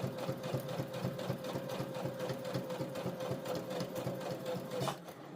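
A Brother CS7000X sewing machine stitches a bucket hat seam, running at a fast, even mechanical whir with a rapid needle clatter for several seconds before slowing and stopping near the end.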